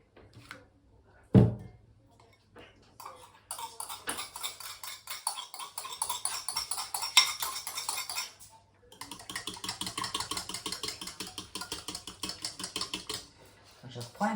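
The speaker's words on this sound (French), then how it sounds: "Et je vais la mélanger à mon eau." Homemade plant-based anti-pest potion, a white creamy mix, being stirred into water in a bowl, giving close, irregular clinking and scraping that runs for several seconds with brief pauses.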